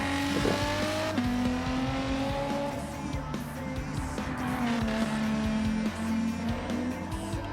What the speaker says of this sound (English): I do love the engine noise of this.